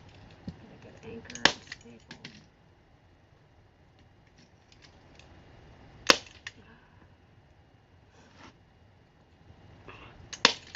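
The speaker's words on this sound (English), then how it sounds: "And we're going to tuck right here and staple" Staple gun driving staples through new fabric into an old chair cushion during re-upholstery, a few sharp isolated snaps spaced seconds apart over quiet handling and rustling.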